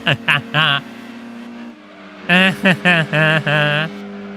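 In Gran Turismo 2, a Mazda RX-7 and other race cars hold a steady droning engine tone, with short rising and falling revs that come in bursts. The sound is close and loud.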